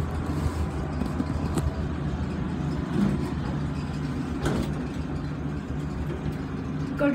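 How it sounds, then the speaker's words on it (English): An old General elevator runs with a steady, low mechanical rumble and hum, with occasional faint clunks, continuous and moderately loud throughout. "This is an old elevator door. It's old and loud, too."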